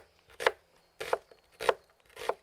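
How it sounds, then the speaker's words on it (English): A knife minces a quarter of an onion on a board for a Roman frittata, four crisp bursts of rapid chopping spaced about half a second apart, close and clear with no voices. "Then we mince about a quarter of an onion and add it in the mortar with the savory."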